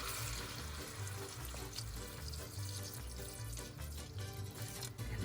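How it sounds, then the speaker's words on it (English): Vinegar is poured into a pan of sautéing carrots, giving a steady watery splash and sizzle that stays fairly loud and continuous for several seconds, with no talking. "So now we are going to add our vinegar."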